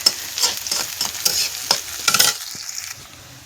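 Onions frying for a jackfruit curry, with repeated sharp scraping strokes of a spoon against the pan over a crackling sizzle, close and fairly loud, tapering off near the end.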